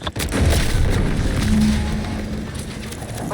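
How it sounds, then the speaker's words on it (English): An explosion in The Outer Worlds 2, a deep booming blast at the start followed by a long rumbling roar that slowly fades, loud and heavy in the low end with no talking. "What's that? An explosion?"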